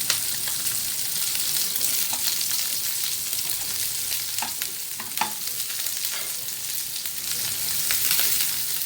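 Onion and bell pepper frying in a pan over medium-low heat, a steady broadband sizzle with occasional sharp scrapes and clicks of stirring, close and continuous with no talking.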